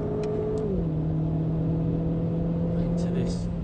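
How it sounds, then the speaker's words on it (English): Renault Clio 200 Turbo engine on a race track, loud and close throughout, its revs dropping early then holding a steady drone with slight rise and fall, plus faint wind and road noise. "You can probably hear the revs rise and fall"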